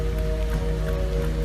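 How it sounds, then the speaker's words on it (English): Steady rain falls outside, a dense continuous patter with a low hum running beneath it throughout. "it's nice and rainy outside"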